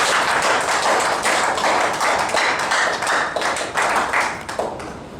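Wedding guests clap together at a ceremony, a loud, sustained patter of many hands with uneven rhythmic pulses that holds for several seconds and then begins to thin.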